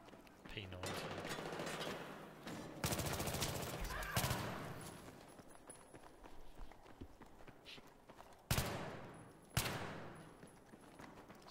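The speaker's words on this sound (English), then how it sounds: "Got like a real rifle type sound to it." MTAR rifle fire in a video game: several sharp bursts of gunshots, with loud cracks near the start and two strong isolated shots toward the end, over continuous game background noise.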